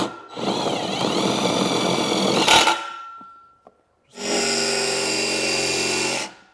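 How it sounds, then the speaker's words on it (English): A power drill drives screws into an aluminum railing in two long, loud whirring bursts, with a short clack and a pause between them. "Let's start some screws."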